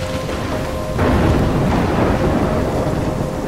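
A stormy scene in the Life Is Strange video game, with a continuous roar of wind and rain that swells into a heavier rumbling surge about a second in, loud and sustained with no voices.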